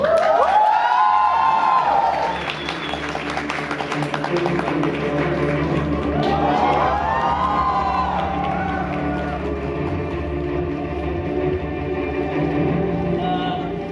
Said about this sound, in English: Please give a huge round of applause to A.R. Rahman